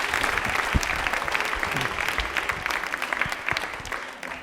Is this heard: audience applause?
yes